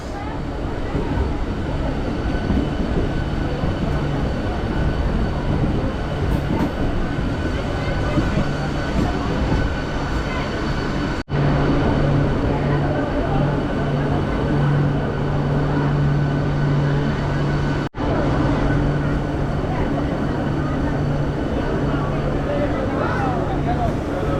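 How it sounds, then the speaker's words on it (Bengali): A local train from Panskura arrives at Digha station, rumbling steadily with a low droning engine hum and rattling wheels, loud and close, while people talk indistinctly in the background. "নতুন দীঘা লোকাল ট্রেনটা পাঁশকুড়া থেকে সেটা কিন্তু দীঘা পৌঁছে গেল"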